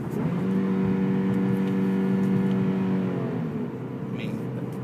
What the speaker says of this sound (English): Nice job with throttle blipping.